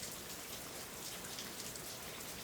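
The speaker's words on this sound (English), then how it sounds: "as we listen to the rain" Rain falls steadily and evenly, a soft, dense patter of drops on surfaces with no voices, gentle and continuous throughout.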